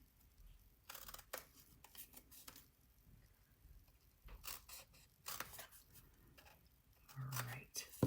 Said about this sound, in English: you're going to cut off those two little rectangles